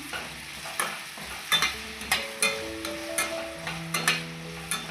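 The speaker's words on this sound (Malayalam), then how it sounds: "1/2 കപ്പ് അളവിൽ ക്യാരറ്റും 1/2 കപ്പ് അളവിൽ ഗ്രീൻ പീസും ചേർത്ത് കൊടുക്കാം. നന്നായിട്ടൊന്ന് വഴറ്റി കൊടുക്കാമേ." Carrots and green peas stir-fried in a pan for carrot peas fried rice, with a steady sizzle broken by repeated sharp scraping strokes of a spoon against the pan, close and fairly loud, no talking.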